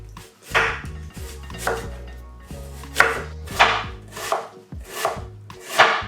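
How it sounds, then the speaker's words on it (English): A sharp knife thinly slices onion on a board in a steady series of crisp chopping strokes, close and clear, with no talk. "I've got a sharp knife, and I'm just going to, as thinly as possible, slice"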